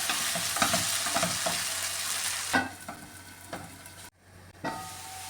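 Potato stir-fry (kizhangu mezhukkupuratti) crackles and roasts in a hot pan while a spoon scrapes and turns it in irregular strokes, with a brief pause near the end before stirring resumes.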